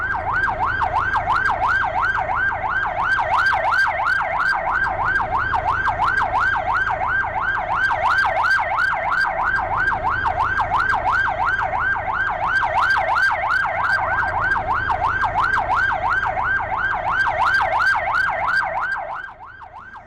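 An ambulance siren wails in a fast, continuous up-and-down pattern, loud and close, sustained for about twenty seconds before dropping off slightly at the end.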